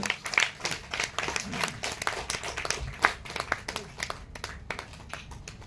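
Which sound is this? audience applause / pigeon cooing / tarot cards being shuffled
audience applause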